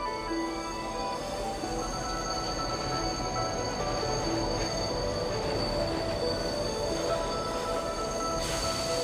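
A train rolls along rails in the video game Bright Paw, a steady loud rumble with high wheel squeal held throughout, no voices.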